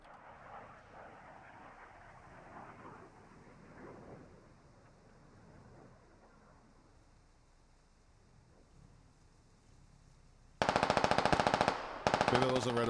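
Video game gunfire in SquadOps, a long rapid burst of automatic fire that cuts in loud and close near the end after a quieter, murky stretch of ambience.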